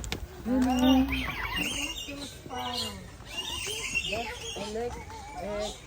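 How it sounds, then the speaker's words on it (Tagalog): An Eclectus parrot gives short, harmonic squawks and chirping calls, fairly close, interleaved with people talking nearby. "Electus parrot."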